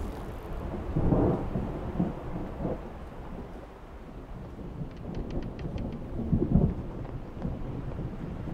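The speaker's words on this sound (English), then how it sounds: "Thunder. A bad omen." Rolling thunder in a pirate-themed adventure game, a low deep rumble over steady rain with two swelling peaks, no voices.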